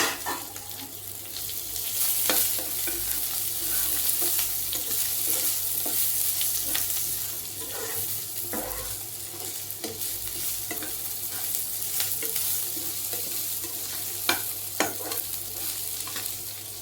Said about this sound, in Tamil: இஞ்சி பூண்டு விழுதை போட்டு நல்லா வதக்கணும்.